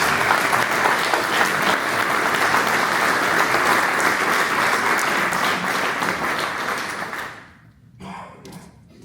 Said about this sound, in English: Please give Daniel a quick round of applause